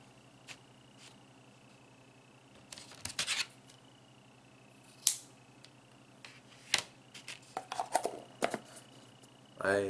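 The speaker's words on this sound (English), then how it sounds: "Next, we're going to cut some cotton off." Scissors snip through cotton wicking for a vape coil in a Smok TFV8 tank build, giving a few short, close crisp cuts scattered among quiet handling noises.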